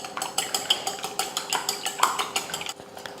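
A utensil beats eggs with turmeric and salt in a bowl, a quick run of rhythmic clinking strokes against the bowl's side, evenly paced and close, stopping shortly before the end.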